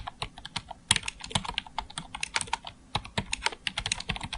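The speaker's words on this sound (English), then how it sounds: "I'm going to click once and just start typing." Someone types on a computer keyboard while entering text in Photoshop. The keystrokes come close and clear in quick, irregular bursts of clicks, with short pauses between runs and no talking.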